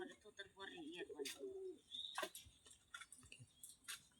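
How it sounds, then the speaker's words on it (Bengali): Pigeons coo softly at close range, a low rolling coo near the start followed by rustling, faint clicks and brief chirpy sounds, all quiet. "আর এক পেয়ার কবুতর দেখাচ্ছি"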